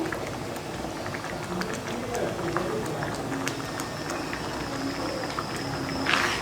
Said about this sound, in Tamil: நம்ம கிண்டிகிட்டு இருக்கிறப்பவே அது கொதிக்க ஆரம்பிச்சிடும்.